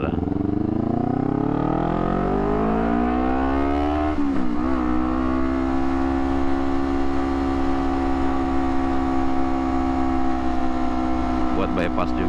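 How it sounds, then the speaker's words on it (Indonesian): Trucks drive in and out hauling fill material for an airport and bypass. A loud engine whines and rises in pitch, then holds a steady drone with road noise. "Keluar masuk truk untuk ngangkut material timbunan buat bandara."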